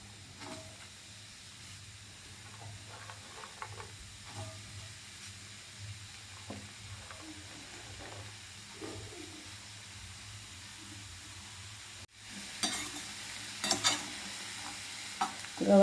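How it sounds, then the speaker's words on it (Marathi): Cluster beans (gavar) dry-roasting in a hot kadai on a gas stove, with soft, low sizzling and scattered scraping stirs throughout, and a louder burst of stirring and clatter toward the end. "गवारी चांगली डाग पडेपर्यंत भाजून घ्यायची व्यवस्थित एकदम."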